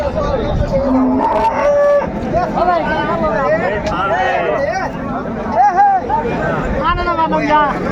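Dairy cows moo in long, low drawn-out calls amid a busy crowd of people chattering and talking nearby at Raniganj cattle market, Dinajpur, Bangladesh.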